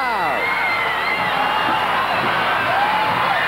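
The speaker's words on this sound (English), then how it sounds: "The crowd's going wild." A packed indoor soccer arena crowd roars after a goal in a 1982 Baltimore Blast at New York Arrows MISL match, sustained cheering, whoops and shouts filling the space at a steady loud level.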